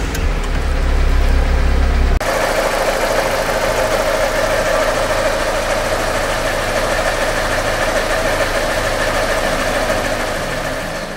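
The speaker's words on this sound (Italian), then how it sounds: "Quindi ovviamente per fare questo dobbiamo avviare il motore." Fiat Punto car engine, parked during brake pump and disc work, cranks with a deep loud burst for about two seconds, then catches and settles into a steady, close, buzzing idle that continues to the end.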